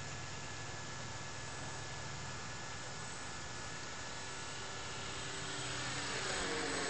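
A Trojan T-28 model airplane drones steadily at a distance, a faint continuous engine buzz with no talking, growing slightly louder toward the end.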